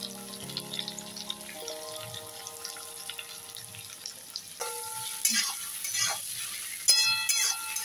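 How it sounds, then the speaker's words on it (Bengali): Tomatoes with salt frying in a pan, a soft continuous sizzle running beneath steady tonal background sounds, growing slightly louder toward the end. "এবার এটা একটু ভাজা ভাজা হতে থাক"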